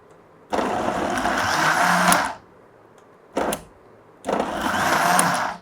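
An electric motor on a hair-treatment mixing machine whirs in two long runs with a brief burst between them, steady and moderately close.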